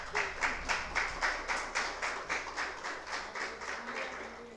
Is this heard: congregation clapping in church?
yes